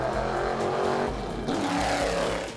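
A classic front-engined, rear-wheel-drive GT car drives hard for several seconds, its engine roaring steadily and close with revs rising and falling, and no talk over it.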